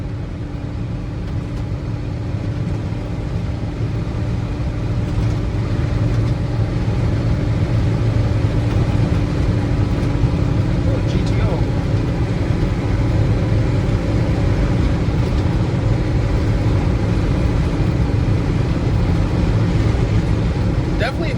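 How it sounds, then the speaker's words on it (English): A 1952 Ford F-1 pickup truck engine drones steadily while cruising, with a continuous low rumble and road noise heard from inside the cab, loud and unbroken for the whole stretch. "Definitely a nice cruising truck."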